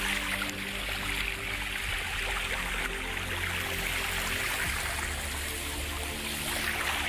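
Water from a small cave spring at a whiskey distillery flows continuously, a steady close rushing and trickling wash with no breaks or voices.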